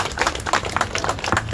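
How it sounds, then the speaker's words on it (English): Brief burst of audience applause, scattered clapping that is moderately loud and close, lasting about a second and a half. "I think y'all deserve a round of applause."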